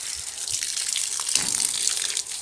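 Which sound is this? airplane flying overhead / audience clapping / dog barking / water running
water running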